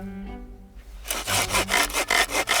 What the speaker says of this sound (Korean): 아들 건영 씨는 어머니를 위해 무언가를 뚝딱뚝딱 만드는 중. 오전에 산에서 구해온 나무랍니다